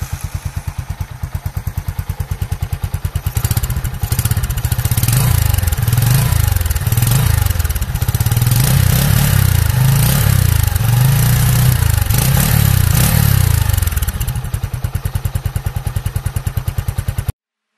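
A Bajaj CT 100 ES 2022 motorcycle engine runs close by, a loud steady thumping putter that swells into rhythmic revving pulses in the middle before settling back to a steady idle.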